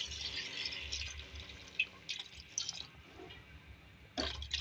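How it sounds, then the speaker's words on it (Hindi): Water poured into a pot of tinda gosht curry, a steady splashing rush that fades and returns in uneven pulses, with a final louder pour near the end; no one speaks. "अब इसके अंदर हम ग्रेवी के हिसाब से पानी ऐड करेंगे।"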